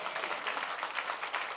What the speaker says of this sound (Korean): 이때 진짜 박수하셔야 돼, 주님께